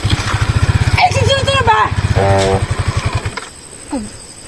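A motorcycle engine runs close by with a steady throbbing pulse under people talking, the putter continuing as voices overlap and then fading near the end.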